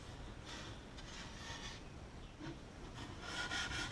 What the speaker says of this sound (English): I'm going to take some of my 60 grit paper right here and see if I can flatten this out